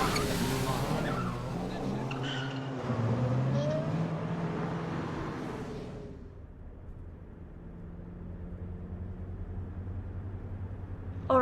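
A car engine straining and tires skidding in a dramatized horror audiobook scene, loud and revving for several seconds before dropping to a low idle-like rumble, with voices speaking over it.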